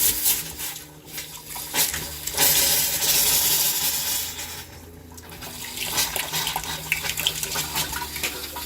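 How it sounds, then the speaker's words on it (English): A newly plumbed homestead faucet is turned on for the first time, water gushing and splashing into a sink in uneven surges, loud and close with brief dips in flow. "I'm bringing you guys along to see the first turn on of the faucet."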